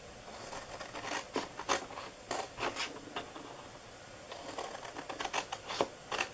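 Scissors snip through the cardboard of a candle gift box in a run of crisp, close cuts, some in quick pairs, with short pauses between, and no talking.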